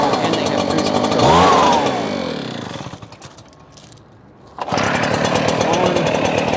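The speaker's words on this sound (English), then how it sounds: "go down the line with the blowers and the other engines" The small engine of a gas leaf blower runs loud and close with a buzzing, revving drone, then drops away for a moment and roars back at full throttle.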